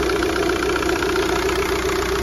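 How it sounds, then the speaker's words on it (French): A car engine idles steadily and loudly after a head gasket and turbo refit, its continuous low hum and mid-range drone unbroken and close, with no talk over it. "Le moteur tourne bien, là je viens juste de remonter tout, la culasse, le turbo, tout ça."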